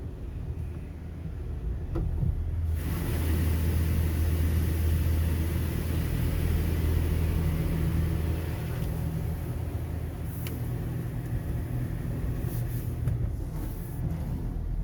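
Steady, loud rush of a PDQ LaserWash 360 Plus touchless car wash spraying a car in Chandler, Arizona, heard from inside the vehicle, with a constant low rumble and hiss that begins abruptly and continues unbroken.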